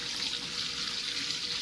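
Water is poured into a portable washing machine, a faint, steady hiss of running water for the whole stretch with no talk.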